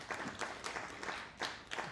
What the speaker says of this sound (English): Round of applause on that.